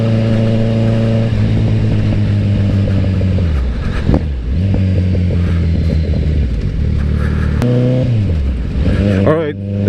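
A Kawasaki Z900 motorcycle engine heard close up while riding, revving and holding steady tones with several rises and drops through gear changes. A rider talks over it.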